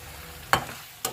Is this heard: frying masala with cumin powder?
yes